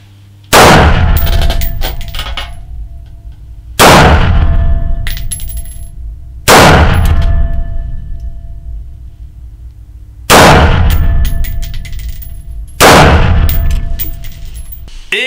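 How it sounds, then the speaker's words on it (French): Loud, sharp gunshots from a Smith & Wesson M&P15 Volunteer AR-15 rifle in .223, fired at a 25-meter range: five single reports spaced a few seconds apart, each with a long ringing decay and reverberant tail. "On va tirer 50 munitions."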